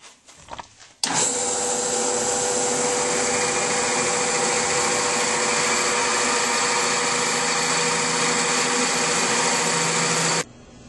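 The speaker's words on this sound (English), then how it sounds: "I'm now going to drill a hole all the way through." A wooden Christmas ornament spins on a lathe while a hole is drilled all the way through it, giving a loud, continuous whirring grind for about nine seconds. It begins and ends abruptly after a few faint knocks.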